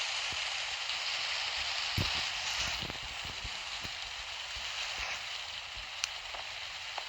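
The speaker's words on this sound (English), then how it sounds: "what would happen in the rain." Steady rain falling in an animated story scene, a constant soft hiss with scattered drop ticks and a few sharper taps, no voices.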